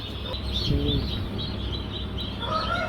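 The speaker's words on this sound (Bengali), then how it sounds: "মুরগি দেখছেন মুরগি দেখছেন" Tiger breed chickens cluck and chirp in the background amid a steady murmur of ambient noise, with a few short calls standing out.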